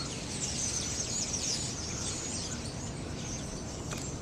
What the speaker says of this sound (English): Can you hear the birds in the trees?